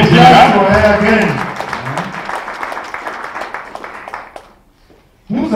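An audience applauds the general secretary at the presentation of a new Congolese community committee in the United States; someone speaks at first, then steady clapping fills the room for several seconds before fading.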